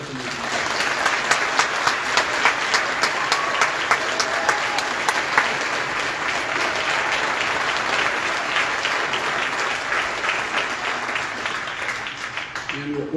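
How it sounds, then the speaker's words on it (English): Sustained audience applause at a school band concert for grades 7 to 12, a dense, steady roar of many hands clapping for over ten seconds, with a few sharper claps near the start. "please give them a round of applause for doing such amazing work"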